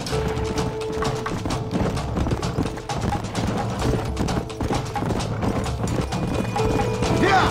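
Horse hooves clip-clop in a steady, busy rhythm in the Red Dead Redemption video game, with occasional neighs and whinnies mixed in and light background game sounds throughout.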